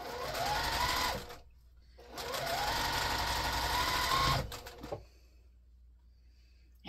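A sewing machine stitches a quilt-as-you-go pumpkin potholder in two close, loud bursts of rapid whirring separated by a short pause, ending in a few clicks and quiet.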